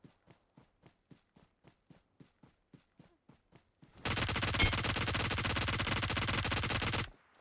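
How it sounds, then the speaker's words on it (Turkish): Gunfire in PUBG Mobile: a string of faint, evenly spaced single shots, then a loud, sustained automatic burst of about three seconds before it cuts off. "Biri de uzaktan sıkıyor."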